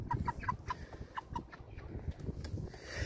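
Hens cluck in short, repeated bursts inside an outdoor enclosure, several calls close together at moderate volume over a steady backdrop of low rumbling noise.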